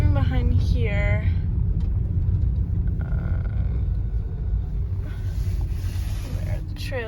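A car drives behind a horse show ring with a steady, close engine rumble and wind buffeting. A voice briefly speaks near the start.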